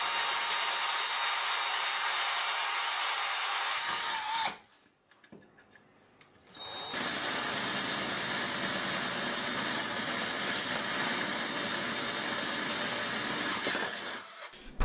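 A power drill bores holes with a drill bit into an ATX computer power supply case being turned into a bench power supply, a loud sustained whirring grind that pauses briefly midway before resuming; no talking.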